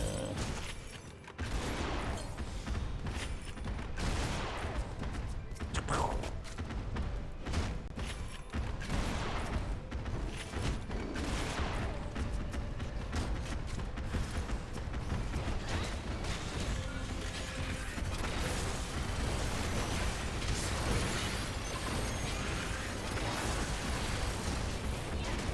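Machinist gunfire in Final Fantasy XIV: dense, continuous bursts of shots and mechanical pops mixed into busy game music and effects, loud throughout.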